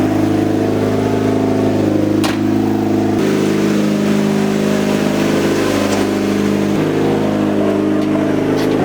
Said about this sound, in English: Idle is very, very high.